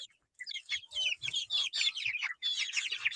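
Clucking from a flock of chickens, many birds calling at once in busy overlapping bursts that fill the clip after a short silent start.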